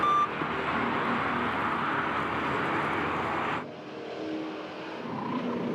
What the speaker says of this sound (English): Iannetta in the number 28 Chevrolet, who overtakes Freddy in the tricky Pouas curve